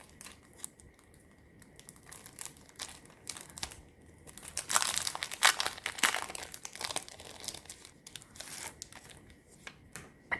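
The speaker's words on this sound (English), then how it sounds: "Let's maybe stick a puffy sticker on." A puffy sticker is peeled from its backing and pressed onto a layered Halloween craft embellishment, giving soft, close crinkles and small tearing rustles that come in irregular bursts.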